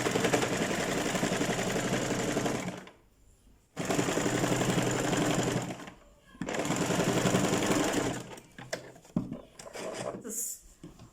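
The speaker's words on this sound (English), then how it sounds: "I'm going to push it inside and sew on top of it all around." Sewing machine stitching around a dress sleeve, running in three close, loud bursts of rapid mechanical chatter separated by short pauses, with handling clicks and rustles at the end.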